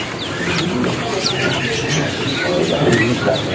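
Caged canaries at a bird market stall give faint chirps and short calls under louder talk and crowd noise.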